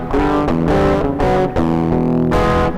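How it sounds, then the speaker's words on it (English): An electric guitar played through a distortion effect, thick sustained chords that ring out loud and close with brief gaps between strums. "I really don't like that distortion."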